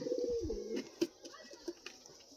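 Black-green pigeons coo in a low rolling burst, then a few short scattered calls and light taps follow close by in a quiet room.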